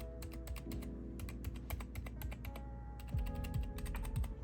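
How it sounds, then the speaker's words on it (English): Rapid, steady typing on a thrift-store gaming keyboard fitted with pre-lubed mechanical switches, crisp clicky keystrokes bottoming out in quick succession, close and fairly quiet with no talking. "the noise of the switch hitting the the little prong inside hitting the bottom of the switch housing"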